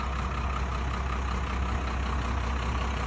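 Steady low engine rumble from a 1993 Fleetwood Bounder motorhome running after two years of sitting, heard as a constant idling drone with broad noise on top, moderately loud with no talking.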